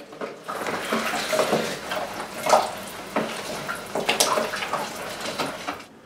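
Casting plaster powder is stirred into water in a bucket, giving close splashing, sloshing and scraping mixing sounds in irregular bursts, with no talk.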